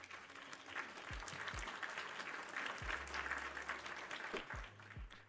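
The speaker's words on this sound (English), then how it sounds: "We're going to get a round of applause for that." Applause sound effect on a live stream: a steady crowd-clapping roar that runs the whole time at a quiet level, with a few low thumps underneath.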